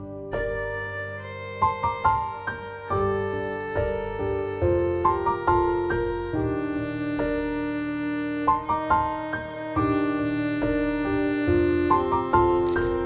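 A Misfit fiddle Kontakt sample library plays a looping melodic pattern of bowed, plucky fiddle notes over sustained tones, a rhythmic phrase repeating clearly with no talking.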